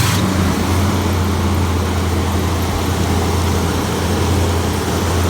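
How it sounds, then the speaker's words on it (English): A 1962 Chrysler car engine idles steadily, a loud, close, unbroken drone with a low hum and no talking. "it fires right up and it has a perfect idle"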